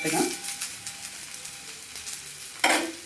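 Ingredients frying in a pan, with a steady close sizzle and a few scraping stirs, one louder stir near the end.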